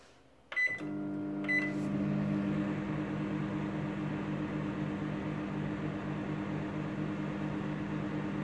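A microwave oven starts with a couple of short beeps, then runs with a steady, even hum and whirring drone at close range, with no voices.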